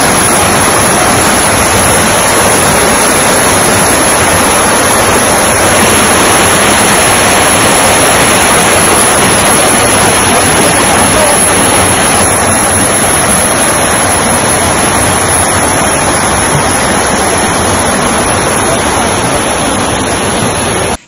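Flash floodwater rushing down the Karakkodan river after washing away a temporary road, a loud unbroken roar of water with no pauses.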